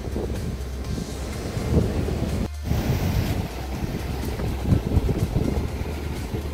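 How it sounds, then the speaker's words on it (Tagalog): Strong wind buffets the microphone in a steady roar, with beach surf and water rushing underneath, loud and continuous without speech, at a beach resort in Puerto Princesa, Palawan. "kung makakaligo pa tayo sa sobrang lakas ba naman ng hangin"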